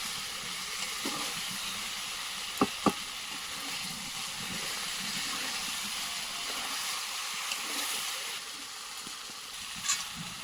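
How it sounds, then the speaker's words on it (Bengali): Pieces of meat fry and sizzle in spiced oil in a village-style kitchen, a steady broadband hiss throughout with a couple of sharp utensil clicks as the mixture is stirred, close and moderately loud, no talking. "মাংসগুলো দিয়ে দিচ্ছি দিয়ে ভালো করে একটু মশলাটাকে যাতে সব এক হয়ে যায়"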